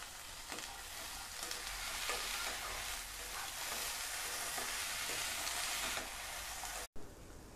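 Mixed vegetables sizzle steadily in hot oil in a kadhai for shahi mix veg, with a continuous close frying hiss and occasional stirring scrapes, alone with no talk, briefly cutting out near the end.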